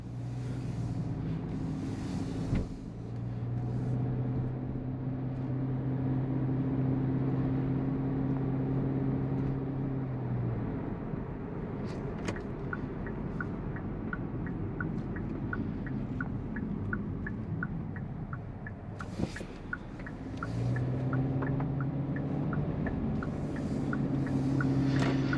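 A 2023 Hyundai Venue Limited driving on the road, heard from inside the cabin as a steady low engine and road hum, with engine tones rising and falling and a ticking indicator in the middle; no talking.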